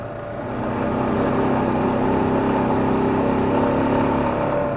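A Honda motorcycle engine drones steadily while riding on hilly country roads, a continuous buzzing hum that builds in the first second and then holds close and loud, with no talk.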